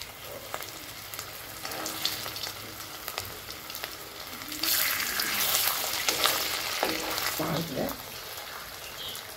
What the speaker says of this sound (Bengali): চলো ভেজে নিই, তারপরে দেখা হচ্ছে।